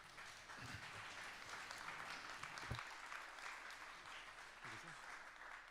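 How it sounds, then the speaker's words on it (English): An audience applauds at an event honouring John Paul II, a steady wash of many hands clapping at once that carries on throughout, with a few louder individual claps and some voices under it. "I can see you applauding longer and longer"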